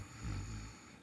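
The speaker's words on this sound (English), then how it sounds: "gentle snoring sound, and exhaling with a humming sound." Gentle yoga breathing on the inhale, a soft snore-like rasp from the throat, faint and close, swelling briefly and then fading.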